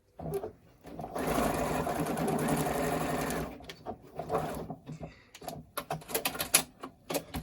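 Sewing machine stitching elastic into a cloth face mask, a steady motor run of about three seconds followed by short stop-start bursts of stitching and handling noises, close and alone.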